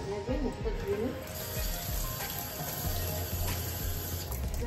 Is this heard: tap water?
yes